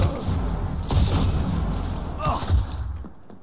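Gunfire in the game Cyberpunk 2077: a couple of loud booming shots stand out over dense, continuous battle noise, with a faint voice mixed in.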